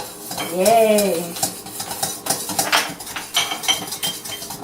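Funnel cake batter being mixed in a bowl, a spoon or utensil clattering and scraping in a quick, irregular rhythm, with a brief voice near the start.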